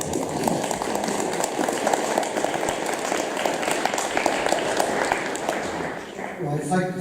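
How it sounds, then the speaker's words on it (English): An audience at a political meeting about the Greens and the Labour Party claps steadily, a dense sustained applause that carries on throughout, with some speech audible under it. "Give a round of applause."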